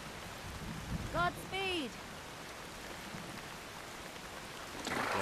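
Steady rain falls in the medieval video game Kingdom Come: Deliverance II, a constant hiss that runs through the whole stretch beneath a brief spoken line and a short tonal game sound, swelling slightly louder near the end.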